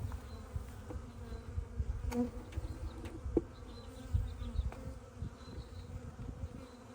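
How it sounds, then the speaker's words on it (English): Honey bees hum and buzz around an open nuc hive during an inspection with no smoker in use, a continuous close droning swarm with occasional faint knocks of frames being handled. "See, I'm not using a smoker, so these bees are really nice."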